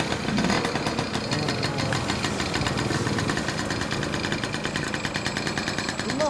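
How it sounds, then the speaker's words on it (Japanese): Small 1982 Honda Motocompo scooter engine running after a kick start, a steady, busy idle chatter close by, continuous throughout with a faint higher whine near the end. "エンジンかけて"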